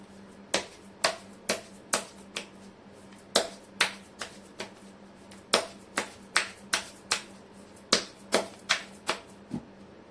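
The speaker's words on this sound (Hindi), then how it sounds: "कर लेती हूँ कार्ड की शफलिंग" Tarot cards being shuffled by hand, a sharp crisp flick or slap repeated every half second or so in small groups, close and dry over a faint steady hum, with no voice.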